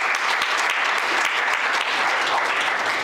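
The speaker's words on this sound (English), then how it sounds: "How about another round of applause for Stephen Colgero?" A loud, steady round of applause from a conference audience for speaker Stephen Colgero at a small-business event at Kean University. The dense clapping fills the whole few seconds without letting up.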